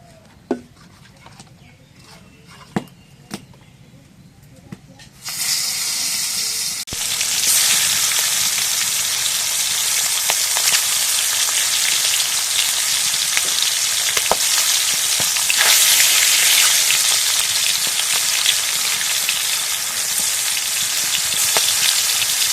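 Pangas fish coated in turmeric powder frying in hot oil in a wok: after a few quiet seconds with faint clinks, a loud, steady sizzle bursts in and continues densely to the end.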